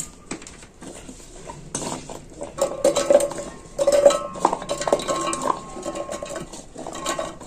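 Potato pieces dropped into a steel mixing jar while preparing a breakfast snack of potato, onion and flour, heard as a series of close metallic clinks, clatters and scraping knocks against the jar, with no talking.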